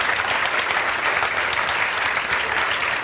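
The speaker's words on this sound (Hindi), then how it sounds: "आपकी बेटी के लिए देखो ये सब तालियां बजा रहे हैं" Audience applause fills the room, dense and continuous clapping from many people at a steady, fairly loud level throughout.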